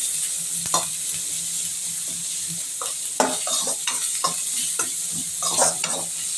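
Onion and ginger frying in a pan for prawn balls, with a steady soft sizzle beneath scattered scraping and stirring strokes of a utensil against the pan, no voices.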